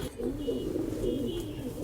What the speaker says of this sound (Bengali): এই যে আমার 35 কবুতর